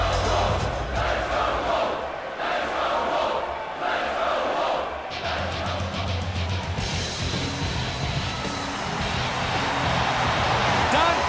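A UFC video game arena crowd roars steadily throughout, a dense wall of cheering and shouting with surges, over a low rumble and under commentary-like voices.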